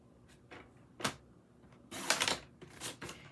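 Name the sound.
paper trimmer cutting 8 1/2 by 11 cardstock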